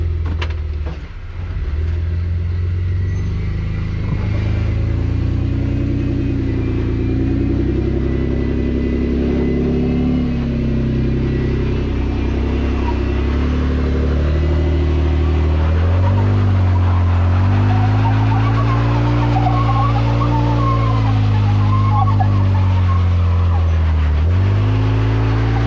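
An off-road vehicle grinds through an obstacle course at a winter jamboree, its engine droning steadily with rising and falling revs as it strains over terrain, loud and continuous throughout.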